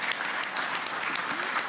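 Audience applause at the 2025 Eclipse Awards horse racing ceremony in West Palm Beach, a steady dense clapping from a large crowd filling the short moment on its own.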